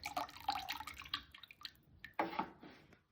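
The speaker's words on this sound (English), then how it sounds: "pour the glaze over the handle" Glaze runs off a pitcher handle into a bucket as a series of soft, irregular drips and splashes, quiet and close, with a brief louder pour near the end.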